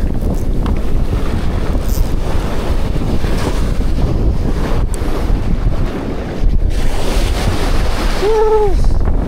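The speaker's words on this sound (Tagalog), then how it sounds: "Hangin." Strong wind buffets the microphone with a constant roar and gusty rumble; near the end a short tone rises briefly above it.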